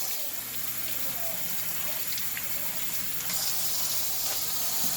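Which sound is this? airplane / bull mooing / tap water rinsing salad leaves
tap water rinsing salad leaves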